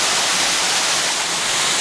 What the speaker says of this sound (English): We've made it to the little waterfall.